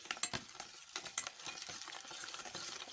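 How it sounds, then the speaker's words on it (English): Dalgona coffee mixture is whisked by hand in a bowl, a quiet, quick run of scraping strokes and light clinks with a steady rhythm, close by and with no talking. "Now it has been around 4 minutes of whisking"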